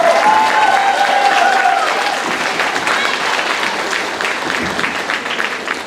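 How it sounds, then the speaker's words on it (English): Audience applause fills a school jazz band concert at Durand High School's spring event, a steady, dense clapping from a sizable crowd that stays loud throughout, with a faint tone sustained underneath. "if you want to clap, go for it, that's fine."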